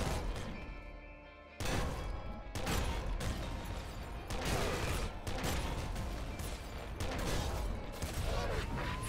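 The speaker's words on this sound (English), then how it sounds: "The blood shotgun thing seems to have pretty low range, which is not ideal." Blood shotgun blasts in the game Nuclear Throne Ultra Mod come in rapid, loud bursts with crashing impacts and clattering effects, almost continuous after a quieter opening.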